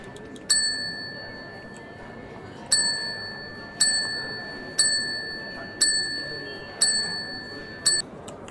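A restaurant counter bell is struck seven times at uneven intervals, each bright ding ringing out and decaying, loud and close over a faint background murmur.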